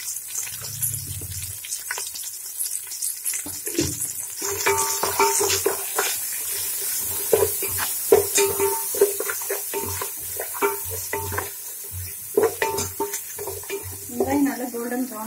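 Onions sautéing with salt in a pan: soft frying sizzle broken by repeated scraping and clanking of a spoon stirring against the metal, close and fairly quiet.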